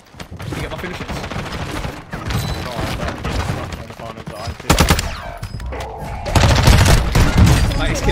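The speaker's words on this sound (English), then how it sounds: "he's killing me with a shotgun" Rapid gunfire rattles in a Call of Duty Warzone match on Ashika Island, dense bursts of shots with heavier blasts near the end, while players talk over the shooting.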